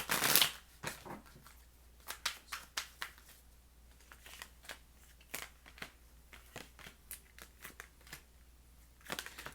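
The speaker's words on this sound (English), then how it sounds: "I always struggle shuffling this deck for some reason." Deck of cards being shuffled by hand, a burst of riffling followed by many short, quiet snaps and slides in an uneven rhythm, close and soft, with no talking.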